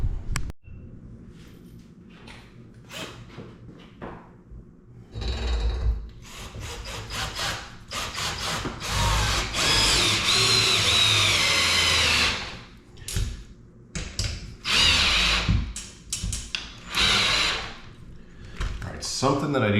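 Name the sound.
power drill with drive extension tightening home gym bolts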